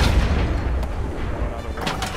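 Ship cannons fire in Sea of Thieves, heavy booming blasts up close with a rumbling low tail, several shots landing within a couple of seconds.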